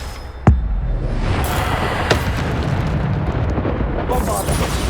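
Bombarda spell blast in Hogwarts Legacy, a single sharp booming explosion near the start followed by rumbling debris, a smaller burst and continuous battle noise.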